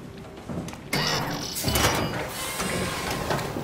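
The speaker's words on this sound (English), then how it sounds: "Oh, that's a door." A mechanical door in the horror game Soma grinding and sliding open, a loud close churn of machinery with rattling and whirring that kicks in abruptly and runs on steadily.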